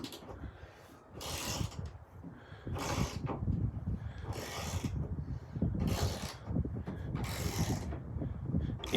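A Wera Joker ratcheting boxed-end wrench is worked back and forth, its internal gears giving bursts of fine clicking in a steady rhythm of about five strokes, close and fairly quiet with mechanical rubbing between.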